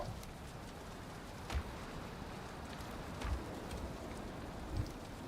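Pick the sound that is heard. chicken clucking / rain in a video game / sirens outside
rain in a video game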